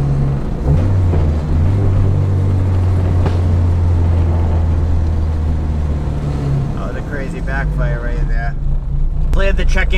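Dodge Neon SRT-4 driven around town, with a steady low engine drone and road rumble throughout and a voice talking over it.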